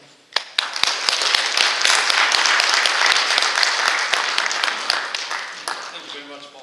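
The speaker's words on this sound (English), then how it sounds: "please clap for the UN diplomat" An audience applauds a UN diplomat taking the stage at a talk event: dense, steady clapping starts abruptly, holds loud and even for about six seconds with sharp individual claps standing out, then thins at the end.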